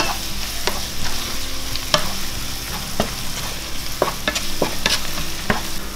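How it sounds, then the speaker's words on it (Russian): Vegetables seasoned with fish spices and salt are stirred in a hot pan, a steady close sizzle broken by repeated sharp scrapes and clacks of the utensil against the pan, with no voices. "Перемешаем это все."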